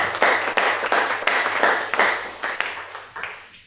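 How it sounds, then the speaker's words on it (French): Church congregation clapping during a day of preaching, brisk and fairly loud applause with sharp, evenly spaced claps that thin out and fade toward the end. "Est-ce qu'on peut applaudir pour sa présence?"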